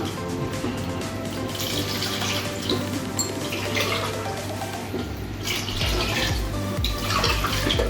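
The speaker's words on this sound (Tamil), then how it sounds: "இப்போ கூட ஒரு 3 டம்ளர் தண்ணி சேர்த்துடலாம்." Water is poured from a tumbler into a pot of mutton biryani, the mutton stock already in it, making a steady splashing flow with a low hum underneath and no talk.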